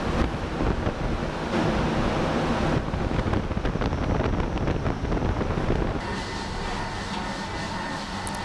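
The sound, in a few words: wind simulator blowing gale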